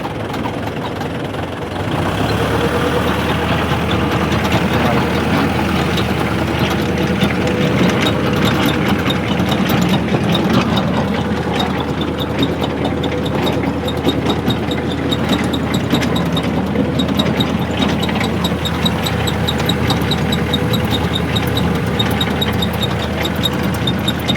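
A steady, loud engine drone runs throughout: a 47-horsepower tractor driving a 2.20-metre rotary tiller, idling and churning with constant low rumble and rattling texture, no break in the noise.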